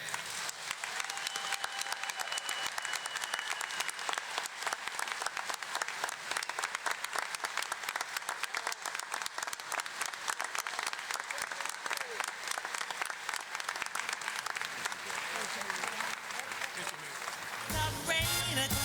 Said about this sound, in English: would you please join me in offering one final round of applause for all of